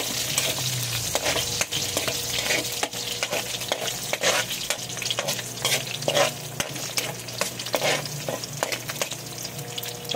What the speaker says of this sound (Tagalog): lutuin na natin ang ating ricado. Una yung bawang